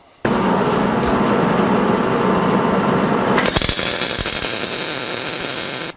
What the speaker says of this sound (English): I don't like to leave open ends, so I weld them up and then grind them off